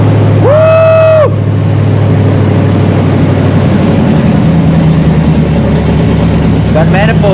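An old Chevy C10 pickup's V8 idles steadily with a deep, rumbling low throb and a manifold leak, loud and close, after a short rising whine near the start.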